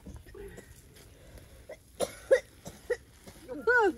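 A person coughs in a few short, sharp bursts at a village cottage in Nepal, with voices talking around the coughs.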